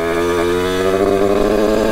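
A Derbi DRD Pro 50cc motorcycle fitted with a Bidalot kit engine runs close by in damp weather, a loud, steady two-stroke drone with a buzzing harmonic whine that wavers slightly as the revs shift, with no talk.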